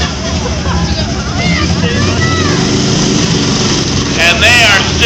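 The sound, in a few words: demolition derby car engine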